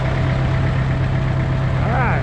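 A Farmall MD tractor engine runs on diesel fuel alone in a loud, steady, low throbbing drone, with a brief voice near the end.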